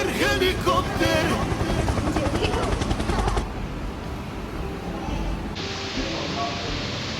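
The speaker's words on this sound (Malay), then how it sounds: "Wow, helikopter." A helicopter passes over a lagoon park resort in Melaka, its loud rotor chop and engine roar rising beneath excited talk before fading to a steadier distant drone.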